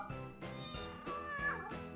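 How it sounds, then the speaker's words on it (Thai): A recorded cat meows three or four times in quick succession, each call clear and close, with short gaps between them and no talking over them. "เล่นเสียงแมวก่อนนะครับ"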